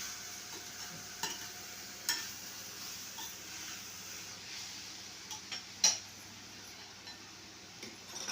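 Ginger and garlic fry in ghee with a soft, steady sizzle, broken by a few light clinks and taps of a utensil against the pan, close but fairly faint.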